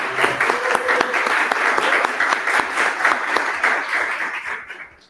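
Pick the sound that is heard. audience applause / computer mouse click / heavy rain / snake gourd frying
audience applause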